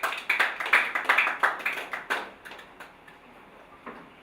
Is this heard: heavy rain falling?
no